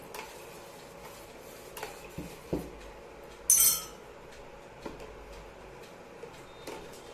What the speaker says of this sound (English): When the milk is boiling, stir it continuously and add the cold milk custard powder which I have mixed before and stir continuously.